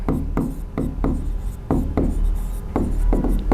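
Names of classical dances are written on a board in quick repeated strokes, a rhythmic run of scratchy marks close and clear with short gaps between words.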